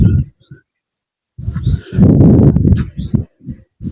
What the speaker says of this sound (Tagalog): Daming ibon dito ah.